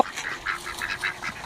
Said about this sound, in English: You know, the ducks want some.